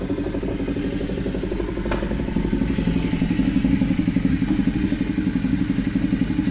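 A Ducati Diavel motorcycle engine runs steadily up close, a loud low rumble with a fast, even pulsing throb that grows slightly stronger partway through.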